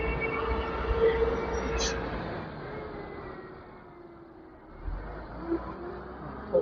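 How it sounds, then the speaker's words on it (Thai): A train rumbles steadily at a station in Thailand, fairly faint and distant, with a brief high squeal and low mechanical noise. "รถไฟมาอีกแล้วด้วย"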